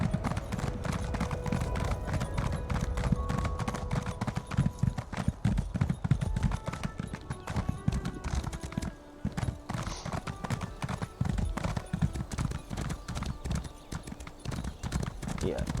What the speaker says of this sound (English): Let's get the horse out.